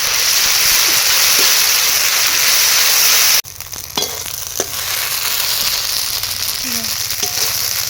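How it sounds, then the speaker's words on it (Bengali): Ginger-garlic paste sautéing in hot oil in a pan for a Bengali fish curry, a loud steady sizzle that suddenly drops to a quieter frying crackle with a few scrapes of stirring. "রসুন বাটাটা দেওয়ার পরে একটু কষিয়ে নেব আদা রসুনের কাঁচা গন্ধটা যতক্ষণ না পর্যন্ত যায়"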